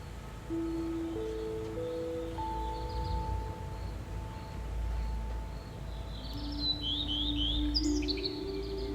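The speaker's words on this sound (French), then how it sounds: "J'entends les oiseaux." Birds chirp and twitter lightly in the distance over a low outdoor hum, with a few brighter calls toward the end.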